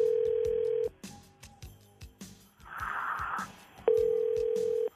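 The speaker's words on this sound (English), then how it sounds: "Calling up Mary's husband" A telephone call is placed on an outgoing line: a steady dial tone, a rapid run of dialing tones and clicks, then a ringback tone. No one speaks, and the line noise is faint.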